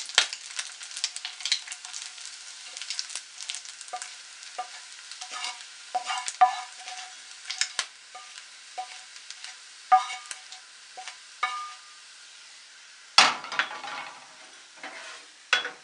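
Bacon frying in a pan until golden, a near, crackling sizzle with many sharp pops and spits scattered irregularly throughout, growing sparser toward the end.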